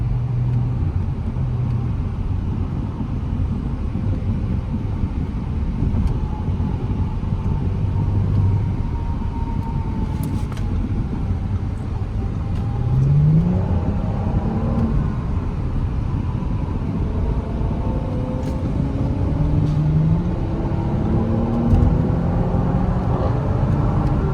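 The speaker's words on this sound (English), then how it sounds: "Very nice pickup. Engine sounds pretty good as well." Continuous engine drone heard from inside a 2020 Audi S5 Sportback, rising in pitch through several gear changes as it accelerates steadily.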